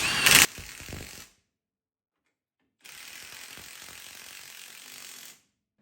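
A ratchet tightens bolts during a disc brake conversion on a 1957-1962 Plymouth, with a loud burst of clicking that stops, a pause of silence, then a steadier stretch of ratcheting clicks.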